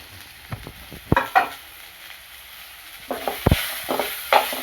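Spices and masala powders, including chili, coriander and turmeric powder, fry in a pan for masala pasta, with a soft sizzle broken by several sharp stirring scrapes and clinks of a spoon.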